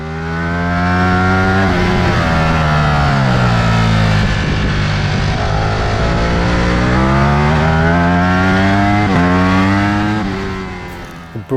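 A 2025 Ducati Panigale V4S motorcycle engine revs loud and close, its pitch climbing and falling through repeated gear-change sweeps in a steady, rasping roar that fills the whole stretch.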